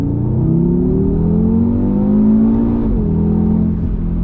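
A 2020 Audi RS3 accelerating hard in second gear from a roll, the engine note rising loud and strained from inside the cabin before a brief dip near the end.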